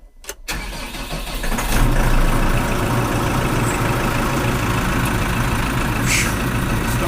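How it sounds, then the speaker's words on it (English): A New Holland T5.120 tractor's engine cranks briefly, catches, and rises to a steady, loud diesel idle that runs on evenly, heard close up with no talking. "I am now getting ready to start the engine for the first time with the new program."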